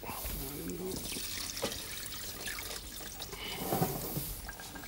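Cooked chickpeas are drained through a sieve while cooking falafel, with water pouring and trickling in uneven splashes at moderate volume. People keep talking over the liquid throughout.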